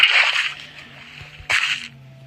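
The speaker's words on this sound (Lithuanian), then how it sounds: "Parenki vieną vietą ir pili vandenį." Water is poured in Minecraft, two short bursts of splashing, sloshing game sound, the first longer and the second after a brief pause, both fairly loud and heard alone.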